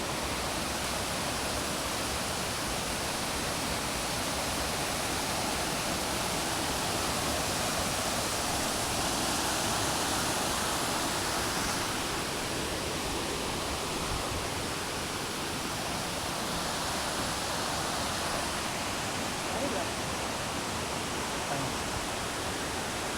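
Mitte waterfall, deep in a forest, gives an unbroken, even roar of falling water, steady and fairly soft throughout with no voices or other sounds on top.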